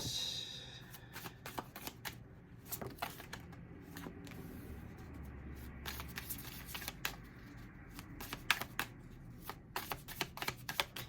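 Tarot cards shuffled by hand in rapid riffling bursts and soft flicks, close and crisp, repeating throughout in an otherwise quiet room.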